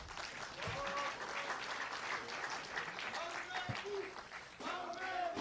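Steady applause from a political party convention audience fills the hall as candidates for the supreme council pose on stage, with a voice talking over the clapping throughout.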